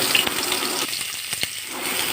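Onions dropped into hot mustard oil crackle and sizzle loudly in a pan, a dense hiss with a few sharp pops, close and without talk.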